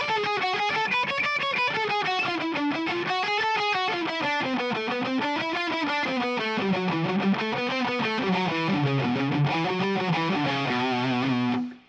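Heavily distorted electric guitar runs a three-note-per-string scale backwards with alternate picking, a fast continuous stream of evenly picked notes weaving up and down, loud and close, with no voice over it.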